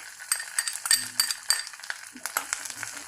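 Metal utensil stirring grated coconut with garlic and curry leaves in a pan over a low flame, a run of light scraping clinks and taps repeating near and fairly quiet, with no voice.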